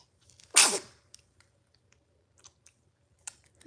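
A single sharp sneeze bursts out close by, followed by faint scattered clicks and small mouth or chewing noises in an otherwise quiet room.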